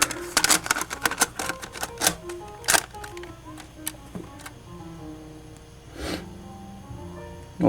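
A 2002 Sony CCD-TRV608 camcorder's tape mechanism loads a cassette with a close series of sharp clicks and clacks, busy at first, then sparser mechanical ticks and a soft whir.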